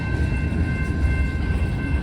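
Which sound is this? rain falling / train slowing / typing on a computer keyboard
train slowing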